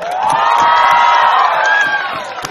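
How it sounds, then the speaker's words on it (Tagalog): Audience cheering and shouting at a gay beauty pageant, a sustained crowd roar of whoops and screams that swells and holds for a couple of seconds, loud and close, with no clear clapping. "Ba't hindi niyo po palakpakan at sigawan ang bagong crush ng bayan, Liza Soberano."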